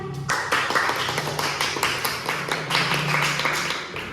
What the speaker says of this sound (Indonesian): Silakan kasih tepuk tangannya semuanya